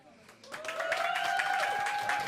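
Audience applause at a live stage event, rising after a faint start into steady clapping that holds at moderate volume while a sustained tone rings underneath.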